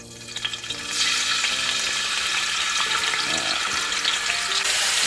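Garlic hits hot oil in a pan for a squid stir fry, bursting into a loud, steady sizzle that carries on close by and alone after a brief quieter start.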